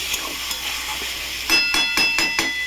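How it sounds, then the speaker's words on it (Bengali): Lotiya fish (Bombay duck) fries in a pan over a high gas flame with a loud, steady sizzle, then a handful of quick rhythmic stirring scrapes cut through the hiss near the end. "তো এবার আমি লটিয়া মাছটা দিয়ে দেবো। মাছটা দিয়ে দিলাম। গ্যাসটাকে জোরেই রাখবো বন্ধুরা,"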